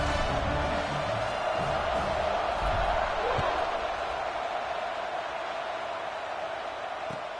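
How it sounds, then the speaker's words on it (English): College football stadium crowd at an Alabama game buzzing after a score, a broad, steady roar of many voices with faint thumps, heard from a distance throughout. "this crowd is buzzing after that last score"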